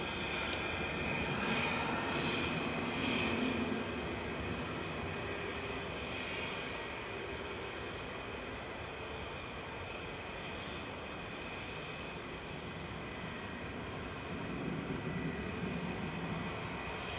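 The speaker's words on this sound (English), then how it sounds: "We've got our first 757 departure." A Boeing 757 jet departs Manchester Airport as a steady, moderately loud roar carries through the whole stretch, broad and even, with a slight swell near the end and no talk over it.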